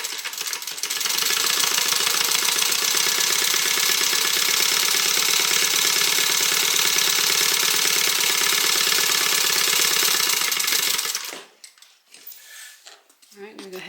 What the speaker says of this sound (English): I'm going to stitch my bottom seam.